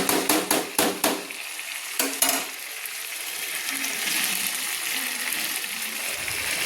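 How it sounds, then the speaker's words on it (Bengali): Chicken pieces and masala are sautéed in a pan for Kolkata-style chicken biryani. A burst of sharp spatula scrapes and knocks comes first, then settles into a steady, close sizzle. "এইভাবে আমি সুন্দর করে কষিয়ে নিচ্ছি।"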